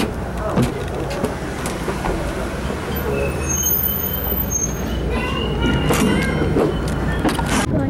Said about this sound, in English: Just got off the first stop of the trolley, and we're here like at a train station